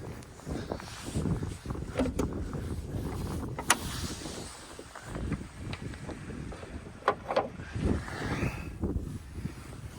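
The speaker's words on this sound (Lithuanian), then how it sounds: "Variklis dirb kai laikrodis." A petrol engine in a Subaru Forester off-road project car runs steadily, giving a continuous low rumble mixed with gusty wind noise and a few sharp knocks.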